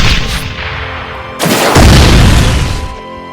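Rocket fruit blasts in the Blox Fruits video game: a heavy game boom fades, then a second louder rumbling explosion bursts in and decays over a couple of seconds, with no talking.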